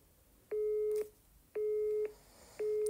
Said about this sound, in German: Hat sie mich gerade ernsthaft weggedrückt? Ich rufe sie nochmal an.